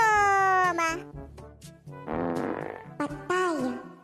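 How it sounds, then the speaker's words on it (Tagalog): A student breaks wind in a classroom, a drawn-out buzzy fart in the middle of exaggerated comic vocal noises and a brief voice, fairly quiet overall. "May umutot."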